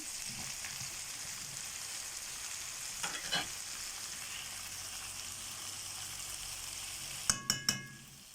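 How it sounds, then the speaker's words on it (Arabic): Vegetables with tomato rings and a stock cube are stirred together in a pan over a steady, close frying sizzle, with a few soft scrapes midway and three sharp utensil clanks near the end. "هنقلب كل الحاجه دي كلها مع بعض اهو."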